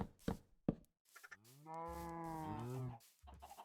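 A Minecraft cow in its pen lets out one long, drawn-out moo, clear and fairly close, preceded by a few soft knocks and clicks from the game.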